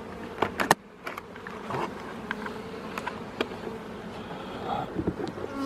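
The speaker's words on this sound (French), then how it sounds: "il reste quelques abeilles, hein, mais rien de bien énorme, hein" Honeybees buzz around hive supers at an apiary in the evening, a steady low hum with a few sharper close passes near the start and scattered brief flybys, alone without talk.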